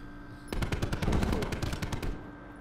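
A loud, close burst of rapid automatic gunfire in Call of Duty Black Ops 4, roughly a dozen evenly spaced shots lasting about a second and a half.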